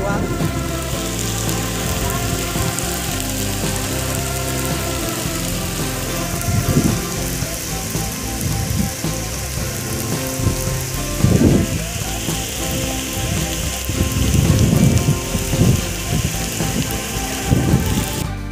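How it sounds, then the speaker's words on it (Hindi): Heavy monsoon rain pours steadily onto surfaces beneath a bridge over the Chambal river at Rajghat, a loud dense hiss with low rumbling surges swelling now and then throughout. "यहाँ पर काफ़ी बारिश होने लगी है और मैं ब्रिज के नीचे छुपा हूँ"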